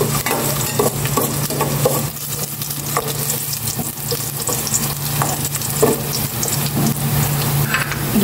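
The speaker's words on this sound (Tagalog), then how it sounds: "Gisa ko na tong bawang" Garlic sautéing in a pan before pork and onions go in, with a constant close sizzle under repeated stirring scrapes and clinks and a low steady hum, with no talking.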